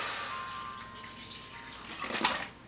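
White vinegar, about half a cup, poured into a cooking pot of chopped hot peppers, giving a soft continuous liquid splash that swells briefly near the end before fading.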